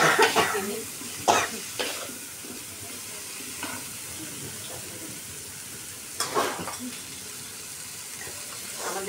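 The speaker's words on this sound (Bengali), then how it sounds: "একটু নাড়াচাড়া করে দিচ্ছি বরবটি" Yardlong beans fry in a pan and are stirred, giving a soft sizzle with a few scraping strokes and clinks; a cough and faint background noise occur between them.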